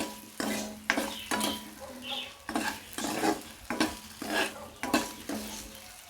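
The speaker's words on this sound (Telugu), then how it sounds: "వీటిని ముందుగా వేయించటం వల్ల ముక్క సాల్ట్ వేసుకోవటం వల్ల కొంచెం టేస్ట్గా ఉంటుందని ముందుగా ఫ్రై చేస్తున్నా" Potato pieces and soya chunks fry with salt in a pan while a spatula stirs them; repeated rhythmic scrapes and clinks of the utensil sound over a steady sizzle, close and alone.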